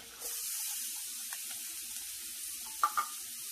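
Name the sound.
chopped onion sizzling in butter in cast iron pan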